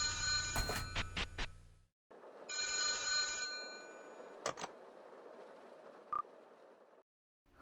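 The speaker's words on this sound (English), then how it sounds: "After wandering for a bit, we suddenly hear a phone ring." A park payphone in the Touhou horror fangame Rigid Memory rings in short electronic bursts. Each burst is clear and fairly close, with quiet stretches and a few clicks between the rings.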